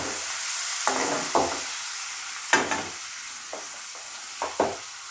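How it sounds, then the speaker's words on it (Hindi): Onion, tomato, ginger and garlic fry quietly in a pan, with a soft steady sizzle broken by several sharp knocks and scrapes of a stirring spoon, close up and with no talk. "और अभी इस समय हम इसमें टमाटर ऐड कर रहे हैं और अदरक और लहसुन"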